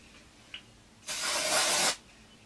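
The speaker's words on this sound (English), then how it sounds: "This is a dry backcombing spray" A single burst of aerosol dry backcombing hair spray hisses for about a second, close and fairly loud, after a faint click.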